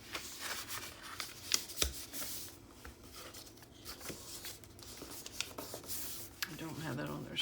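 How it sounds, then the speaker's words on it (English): Paper being folded by hand for a journal project with pockets, tags and belly bands, giving soft, quiet rustling and creasing sounds with a few light taps, close to the listener. "Then just fold it over."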